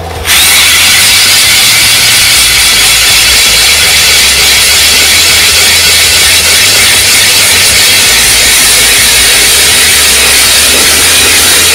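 A small lightweight power drill whines loudly and steadily for several seconds after a sudden start, boring through ice, a constant high grinding drone with no talk.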